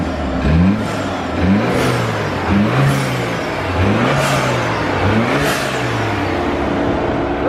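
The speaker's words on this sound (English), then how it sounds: "Supposedly the turbo is gonna be a little bit louder" A BMW F30 328i turbocharged engine revs repeatedly in rising and falling pulses, roughly one every second, loud and close, with a faint turbo whine on top, after a CSF intercooler install.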